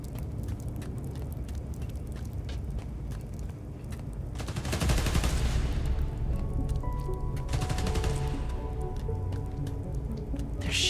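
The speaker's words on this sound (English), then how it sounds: "They're shooting Transformers?" Bursts of automatic gunfire in the Spider-Man: Miles Morales video game, a dense fusillade swelling loud around the middle and again later over a steady background din of game ambience.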